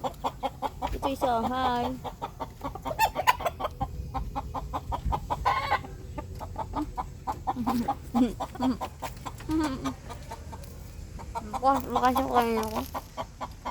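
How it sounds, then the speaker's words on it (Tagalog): Backyard chickens clucking and calling close by, repeated bursts of clucks through the stretch, mixed with a person talking to the birds and making coaxing calls. "Hindi namin manok tong iba eh."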